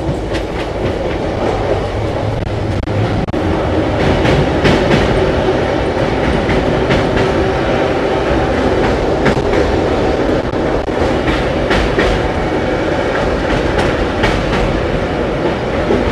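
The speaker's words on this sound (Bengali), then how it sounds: "পুরো আধ ঘন্টা দাঁড়িয়ে আদিত্যপুর স্টেশন থেকে আমাদের ট্রেন শেষমেশ ছাড়লো" Train 13512 ASN–Tata Express pulling out of Adityapur station after a long halt, a steady loud rumble of rolling wagons with rhythmic clickety-clack and occasional wheel squeal, heard from on board.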